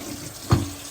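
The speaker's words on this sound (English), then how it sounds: "And rinse it out real good." A pot being rinsed under a running kitchen tap after cooking beef stew: a steady hiss of flowing water with a brief, louder splashing surge midway, close by.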